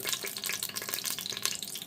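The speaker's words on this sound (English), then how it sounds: "you can test if it's hot by throwing a little bit of water in there" A little water is thrown into hot oil in an Instant Pot before pork goes in to sear, giving a brief, bright, crackling sizzle that carries on steadily for a couple of seconds.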